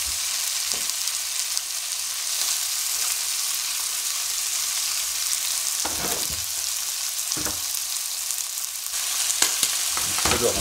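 Rabbit saddles sizzle steadily in a casserole pan too big for the four pieces, a dense continuous frying hiss with a few louder pops and stirring clatters, close and with no talk.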